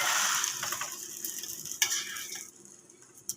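Sandwich laid on a ghee-coated griddle sizzles close and bright at first, then the frying hiss fades to a faint crackle with a couple of small clicks near the end.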